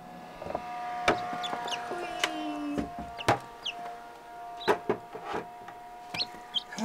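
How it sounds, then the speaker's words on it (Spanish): Incubator-hatched chicks peep close by in sharp, high, repeated chirps, scattered and overlapping across the stretch, with a faint mechanical hum beneath. "Pues aquí están los pollitos de la incubadora."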